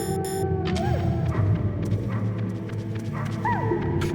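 Guard dogs in the original Metal Gear Solid bark in short sharp yaps scattered over a low droning game soundtrack, moderately loud with no talking.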